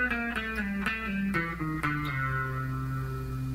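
An electric guitar with a slightly driven tone picks a descending blues pentatonic run, about eight plucked notes that step down in even succession before the last one rings out, close and clear with no talking.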